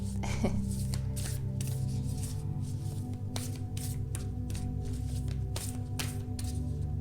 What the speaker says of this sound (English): I'll just shuffle all the cards first and then pick up